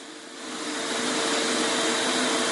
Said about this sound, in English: Also, vacuum out the exhaust chute, clean out any excess lint in that.